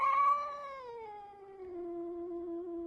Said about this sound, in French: le chat qui s'est réfugié sous un meuble